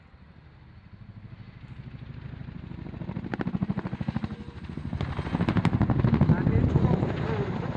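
Helicopter maneuvering in a flying display at the Waddington Airshow, flipping on its head and flicking its tail around; a loud rhythmic rotor chop swells and fades as it turns, with a commentator talking over it.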